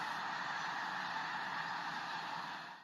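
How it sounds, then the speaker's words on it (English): A flock of geese flying overhead, a dense continuous chorus of honking calls held at steady loudness for a few seconds before fading off. "the sound of geese flying overhead"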